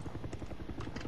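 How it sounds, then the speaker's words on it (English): A helicopter's rapid rotor chop thumps steadily and evenly in Far Cry 6, with no speech over it. "I'm getting in this freaking helicopter."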